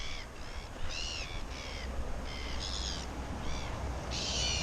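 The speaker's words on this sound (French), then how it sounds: "Voilà l'attaque de mouettes." Seagulls calling during an attack: a rapid series of shrill, repeated cries in close bursts over a constant rushing outdoor background, with no talk.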